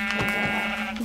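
A Minecraft sheep gives one clear, close bleat that wavers for about a second, with no talking over it.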